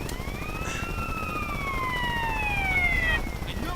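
A police siren in the GTA San Andreas video game wails with rising and falling tones over a steady background rumble, fairly faint and alone with no talk.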